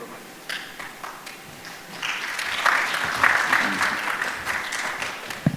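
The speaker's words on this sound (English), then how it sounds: "Let's give him another clap." Audience applause at the Kenya National Research Festival 2024, starting with scattered claps, then swelling into steady clapping from a crowd across the room, with some voices mixed in.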